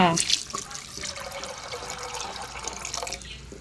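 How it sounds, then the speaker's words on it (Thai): Water poured into a cooking pot for boiling cassia flowers, a continuous close splashing and gurgling stream that starts strong and settles into a steady flowing pour. "เสร็จแล้วก็ใส่น้ำลงไปเลยค่ะ"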